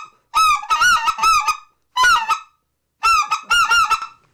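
Blown goose call imitating goose honks: a close, loud run of about four nasal honks, a short pair, then another quick string of honks, with brief silences between.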